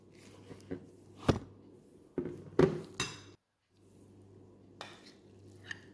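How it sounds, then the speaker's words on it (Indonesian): Ground shrimp, mashed potato and chopped ingredients for kofta being stirred together in a bowl, with several sharp clinks and scrapes of a utensil against the bowl amid quiet handling noise and a short silent gap. "sekarang kita akan campur semua bahan yang sudah kita haluskan, yang sudah kita potong-potong ya"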